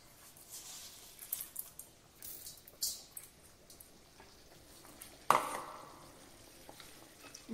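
Fried urad dal lentils are stirred with turmeric in a pan for tamarind rice. Soft, scattered scraping and faint sizzle give way to one louder clatter midway and another near the end.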